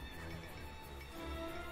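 A horse neighs in the strategy video game Cossacks II: Battle for Europe. The whinny is short, faint and tonal, with soft clip-clop hooves and game background sound beneath it.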